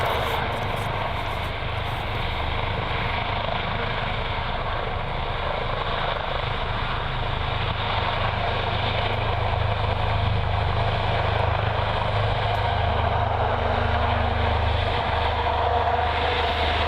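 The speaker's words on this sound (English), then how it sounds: "They'll disengage the prop to give you a comparison of the aircraft's acoustic signature" Sikorsky S-97 Raider compound helicopter taxiing with its pusher prop disengaged, a steady loud rotor and turbine roar with a deep low drone that grows slightly stronger partway through, continuous and close.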